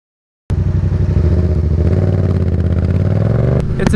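A Yamaha FZ-07 (MT-07) motorcycle pulls away under load, its engine snapping on abruptly and droning loud and steady with a slowly rising pitch and a rapid throbbing pulse.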